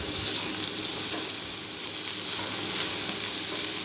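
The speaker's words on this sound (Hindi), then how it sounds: "इसको थोड़ा सा फ्राई करेंगे इसके साथ" Chopped ginger, garlic and green chillies fry with onions in a pan, giving a dense, steady sizzle that stays loud and close throughout, and no one speaks.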